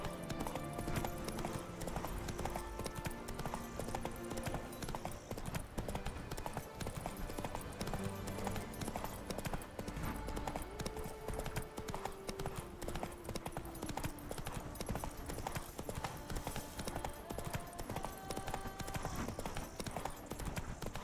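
Roach the horse trots through The Witcher 3 with a steady, rhythmic clip-clop of hooves, heard at moderate volume beneath game music and ambient sound.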